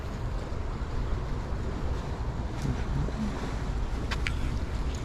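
Wind blows steadily on a lakeside fishing pier at Michigan City, a broad constant rush with water and surf noise beneath it and no speech.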